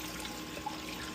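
Water runs into a seed-growing container in a short, steady, close trickling pour with a soft splash texture and no speech.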